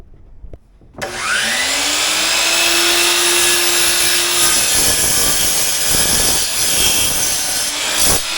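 Chop saw cutting 14-inch wood pieces for a TV tray river table, one loud sustained whine running about seven seconds after a brief quiet start, with a steady tone that drops slightly partway through and spins down at the end.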